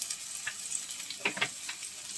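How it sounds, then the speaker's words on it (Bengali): Spices with turmeric frying in a pan, a continuous close sizzle broken by a few soft scrapes of stirring, with no talking. "এটাই এবার সুন্দর করে নেড়ে চেড়ে একটু মশলাটা আর কি কষিয়ে নেবো"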